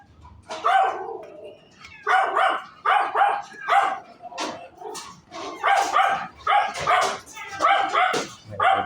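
A pet dog barks repeatedly in close, bursty runs near a scooter being serviced during an oil change, with a few yips and whimpers between barks and no talk.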